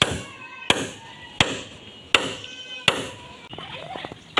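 Four-inch nails being hammered into wooden beams, with four sharp, evenly spaced blows ringing out close by, followed by quieter scraping and handling noise at the end.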